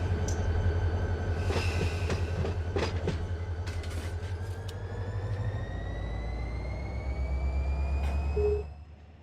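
Locomotive in the Run 8 train simulator game hauling loaded freight cars, a steady low rumble with rail clatter and rising wheel squeal, sustained throughout before fading near the end.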